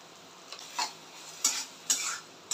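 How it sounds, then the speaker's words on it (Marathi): Food being stirred and sautéed in a pan gives a few light, evenly spaced scrapes and clinks over a faint background hiss. "चांगलं परतून घ्यायचं"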